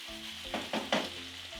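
Vine tomatoes hitting a hot pan for a pork and potato stew, a soft steady sizzle with three short bursts of stirring or dropping pieces partway through, fairly quiet and without voices.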